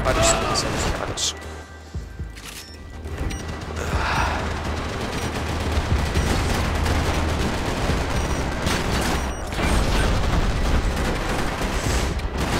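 Heavy gunfire fills a Max Payne 3 multiplayer round: constant automatic bursts mixed with sharp individual shots and impacts, loud and sustained throughout, while someone speaks over the action.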